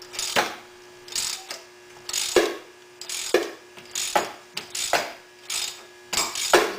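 Steering wheel puller held on with hose clamps, turned by hand to draw the pulley off a Ford Zetec engine; repeated ratcheting clicks and metallic creaks in an uneven rhythm, close by.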